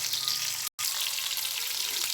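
Chicken pieces fry in oil for chicken kondattam, a close, steady sizzle and crackle that cuts out for a split second and then carries on.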